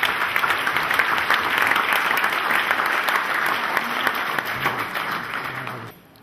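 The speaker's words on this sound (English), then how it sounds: "put your hands together and with a round of applause, please welcome Dr. Muhammad Al-Ashmawi onto the stage" Sustained audience applause welcoming a speaker onto the stage at an Islamic Relief Worldwide event in Scotland, a dense steady wash of many hands clapping for about six seconds before cutting off abruptly.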